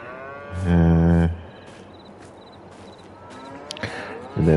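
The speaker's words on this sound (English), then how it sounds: "Got a few more cows in here." Cattle in a barn in Farming Simulator 22 give a loud, close moo lasting about half a second, then a second shorter moo near the end, with faint footsteps and someone talking between them.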